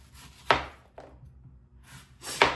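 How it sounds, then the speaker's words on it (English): Knife slicing into an apple from the side toward the seeded core, making crisp, close cutting crunches: one sharp stroke, a lighter one, then a pause before another firm cut, with no talking. "start cutting the apple on the side like this"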